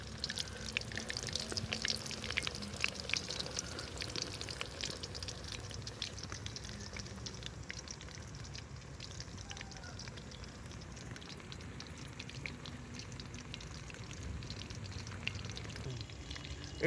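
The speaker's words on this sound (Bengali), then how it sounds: "এটা আমরা চর্বুদার বড়া করে নিচ্ছি।" Beef fat fritters for khichuri frying in hot oil, a steady dense crackling sizzle with spitting pops, close and continuous throughout with no talking.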